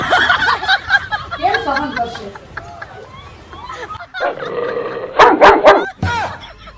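A dog barks and yips several times amid excited talking and laughter, followed by a burst of louder sharp barks near the end.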